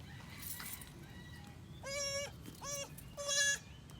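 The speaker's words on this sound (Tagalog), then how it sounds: "Pakita ko lang po itong ating bagong anak na kambing bago tayo mag-ikot pa." A mother goat and her young kid bleat on a farm, three distinct wavering bleats in quick succession, moderately close, over faint outdoor background noise.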